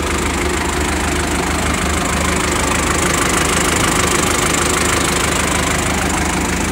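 A Shibaura 5346 Japanese-import tractor with a four-cylinder, 53-horsepower diesel engine idling up close, a loud, steady, continuous rumble with an even knocking texture and no pauses.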